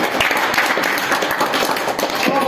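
An audience at a farewell party for a commandant's posting claps loudly together, a dense, continuous burst of applause close by that fills the moment without any talk.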